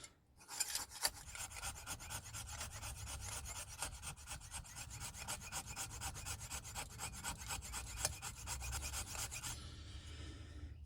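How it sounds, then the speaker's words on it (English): A saw blade scraped back and forth across a wooden board to raise fine sawdust, making a steady, close, rapid rasping rub that runs for about nine seconds before stopping. "I use my saw blade to get the finest dust I can get"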